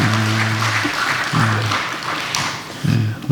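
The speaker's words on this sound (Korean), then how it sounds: "다시 한번 축복의 박수 한번 해주시기 바랍니다." A congregation at a Holy Week special dawn prayer service applauds the women's mission members as a blessing, a dense steady clapping that fills the room, with low hum and scattered shuffles underneath.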